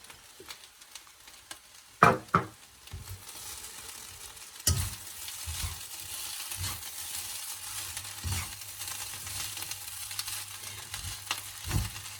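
Shredded cabbage and mixed vegetables for Sri Lankan chicken fried rice hiss in a pan, with sharp clattering tosses and scraping stirs recurring over a low, steady sizzle.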